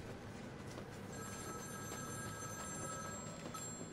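A telephone rings in the Batman Arkham City video game, a faint steady electronic trill with sustained tones held for a few seconds over a low background hum, no voices.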